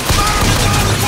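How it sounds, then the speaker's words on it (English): Gunfire in the PC game BioShock Infinite, a dense continuous burst of shots over a loud broadband roar, with a faint voice underneath. "I'm getting shot!"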